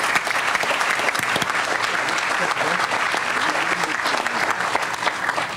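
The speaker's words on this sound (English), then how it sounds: "Let's give him a round of applause." A crowd applauds steadily for the full stretch at the groundbreaking ceremony for the Wentworth multipurpose academic building, a dense, even patter of many hands.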